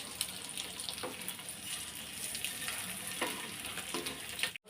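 Food fries steadily in a hot pan while it is turned to roast the other side of a dhaba-style tawa egg masala preparation, a continuous close sizzle with scraping stir sounds, ending in a brief cutoff.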